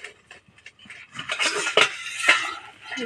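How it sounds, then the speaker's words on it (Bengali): A metal lid lifted off a pot of boiled lentils, giving close clinks and scrapes of metal on metal, with a few louder knocks in the middle. "এবার আমরা ঢাকনা তুলে দেবো।"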